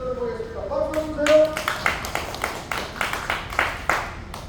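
Audience clapping at a political rally in Busan, a burst of loose, uneven claps rising and then settling into scattered hand strikes, with a voice speaking at the start.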